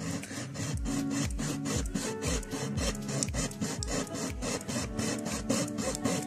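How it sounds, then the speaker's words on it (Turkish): Rhythmic back-and-forth sawing through thick old wood, a hacksaw rasping in steady quick strokes, close and continuous with no voices. "biz de evdeki demir testereyle devam ediyoruz"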